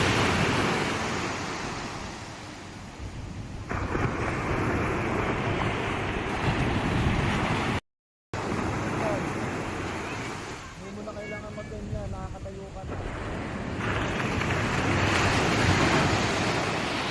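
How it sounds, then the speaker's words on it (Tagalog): Sea waves rolling onto a beach with a steady wash of surf and wind buffeting the microphone, while people talk nearby, broken by a brief dropout. "nandito tayo sa may dagat"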